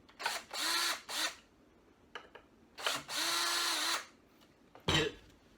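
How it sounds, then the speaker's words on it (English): Cordless drill driving screws into the back of a turkey fan mount, with several short whirring bursts of varying length and pauses between them, close and fairly loud, followed by a sharp clack. "We're going to come in with a cordless drill."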